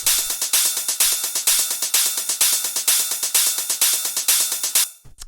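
Techno cymbal loop layering a main hi-hat, a 909 hi-hat in steady 16th notes and a ride, forming a bright, fast, even metallic pulse for about five seconds before it stops abruptly.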